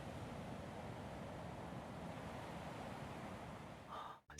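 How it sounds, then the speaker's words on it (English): Soft, steady wash of ocean waves as ambience in the visual novel Our Life: Beginnings & Always, a low constant surf hiss that cuts off abruptly near the end. "Oh, that ocean sound."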